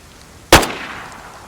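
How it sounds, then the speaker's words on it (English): A single unsuppressed .45 pistol shot in DayZ on the Livonia map, one sharp loud crack with a short decaying tail, heard alone against a quiet background. "That was a 45 unsuppressed."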